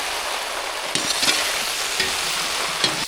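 Spiced potato fry being stirred in a pan, a continuous soft sizzle broken by a few scraping stir strokes at intervals.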